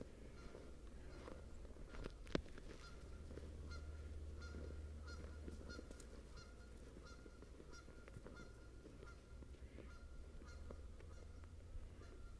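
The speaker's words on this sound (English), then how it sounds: "The geese are having a good day." Geese honk repeatedly in the distance near water in a Canadian forest, their calls faint and steady over a low outdoor rumble, with no talking.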